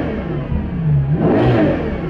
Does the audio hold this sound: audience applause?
no